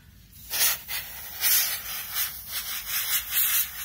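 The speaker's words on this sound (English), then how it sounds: "I'm not going to spray straight on the hard drive." Compressed air sprayed in short bursts to blow dust out of a PS4 console, giving a series of close, hissing rushes that swell and fade repeatedly, with no talking.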